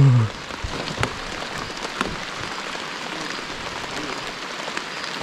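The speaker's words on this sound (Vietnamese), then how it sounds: "Mưa không ngừng luôn." Steady rain pours down in a rainforest during a cold river fishing trip, a dense even hiss with scattered louder drops, close and continuous throughout.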